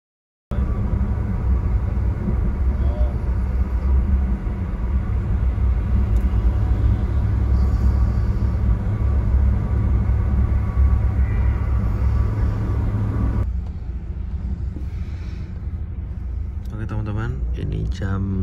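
A Damri double-decker express bus drives along a highway from Malang toward Jakarta, with a steady loud engine and road rumble filling the cabin that briefly softens near the end.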